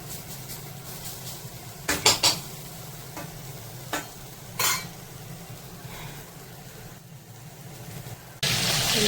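Pomfret fish fries in a pan with a low steady sizzle, broken by several sharp clinks and scrapes of a utensil against the pan, ending in a louder burst of hiss.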